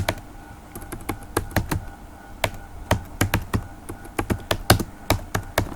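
Code typed on a computer keyboard while writing a C++ program, rapid close key clicks in uneven bursts with short pauses, fairly loud and with no voices.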